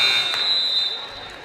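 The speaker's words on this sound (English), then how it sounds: "Garcia up top for Starks at the buzzer" The end-of-quarter buzzer sounds during a girls high school basketball game: a steady electronic tone held for about a second over gym crowd noise and play-by-play commentary.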